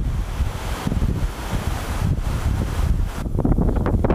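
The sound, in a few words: strong wind, about 20 knots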